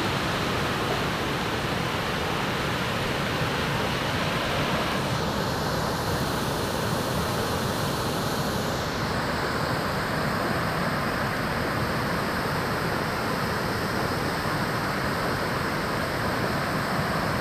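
Floodwater roars across a bridge at Narayangaon: a steady, dense rushing wash with no breaks, loud and continuous, with no voices.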